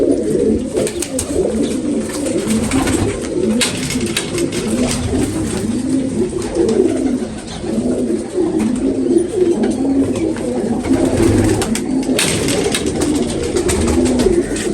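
Pigeons coo continuously in low, rolling repeated calls, close and steady, with faint rustling throughout.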